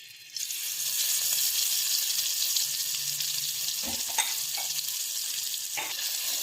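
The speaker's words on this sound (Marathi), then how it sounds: "वाटण व्यवस्थित ढवळून घ्यायचे." Ground paste for a traditional wood apple soup fries in oil with a continuous close sizzle that starts suddenly, with a few scraping knocks of a spoon stirring through it and no talking.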